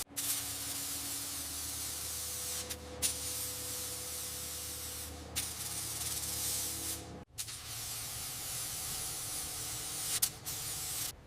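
Primer is sprayed onto the rusty body of a 1955 Mercedes 300SL Gullwing, a steady close hiss running in long passes with brief breaks between them, with no voices.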